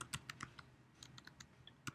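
Typing on a computer keyboard during a to-do list app coding session: a few quick, irregular clicks and taps of keys, close and moderately faint, with no talking.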